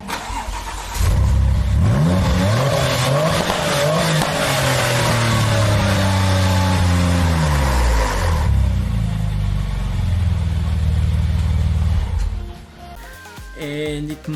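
A 2003 Porsche 996 Turbo with K24 turbochargers, new intercoolers and quad exhaust pipes starts up and revs loudly close by, its engine note rising and falling before settling toward idle.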